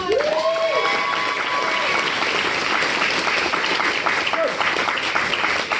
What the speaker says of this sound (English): let me first introduce a round of applause for Libby Bovin